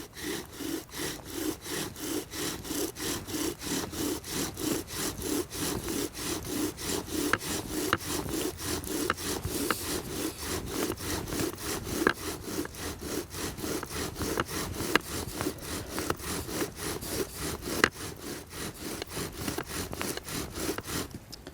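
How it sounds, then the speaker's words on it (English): A bow drill spins a wooden spindle against a hearth board in a smooth, even back-and-forth rhythm, each stroke giving a rasping wooden rub that repeats steadily and closely throughout, with no speech. "Grabbing the string to tighten it on the drill, we get ourselves into a nice,"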